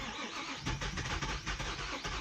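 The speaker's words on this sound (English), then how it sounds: "Let's see what happens when it idles. It's gonna be hard to start because there's plenty of brake cleaner in there." An Infiniti I35 engine cranking and catching right after its throttle body was cleaned with brake cleaner, turning over roughly then settling into an uneven idle, close and steady with no speech.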